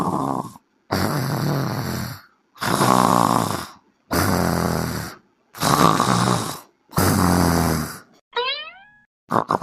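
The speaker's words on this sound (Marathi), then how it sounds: "मोठ्या मोठ्याने घोरू राहिलाय" Heavy, loud snoring from a sleeping man comes in a slow, regular rhythm of six long rasping breaths, close and alone, with a short squeak at the end.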